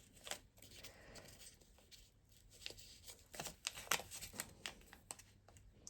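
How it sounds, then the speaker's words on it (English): Square paper folded by hand into an origami gift bag, with soft crinkles and sharp creasing rustles that come in bursts and grow busier toward the end, quiet and close. "So we're folding this so that that lines up with that."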